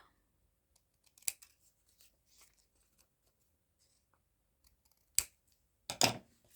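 Scissors trim paper while pockets are filled for a craft project, giving a few faint, brief snips spaced apart in an otherwise quiet room, with no talk.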